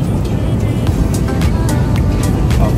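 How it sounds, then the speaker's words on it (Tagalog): Steady low roar of an airplane cabin on the ground just before takeoff, a constant engine and air-system rumble with faint scattered clicks and shuffles, no talking. "Palipad na yung aeroplano at makakatulog na."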